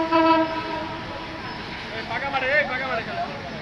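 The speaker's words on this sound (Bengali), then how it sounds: "আপনারা দেখতে পারতেছেন একটি ট্রেন বেনাপোল এক্সপ্রেস, বেনাপোল থেকে আসা ট্রেন ঢাকার উদ্দেশ্যে ঢুকতেছে।" The Benapole Express passenger train arrives into Dhaka at night, its horn sounding in a sustained blast and then shorter wavering toots over a rumbling, clattering train, with a person talking underneath.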